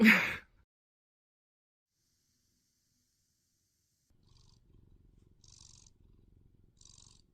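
Special needs house cat purring softly up close in quiet, a faint rhythmic rumble that starts after a brief noise and several seconds of silence.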